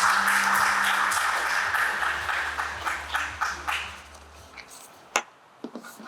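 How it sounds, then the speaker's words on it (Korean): A Korean ICT forum audience claps and applauds for a Nexon Games keynote speaker, steady loud applause for several seconds that thins out into a few scattered claps at the end. "큰 박수 부탁드립니다."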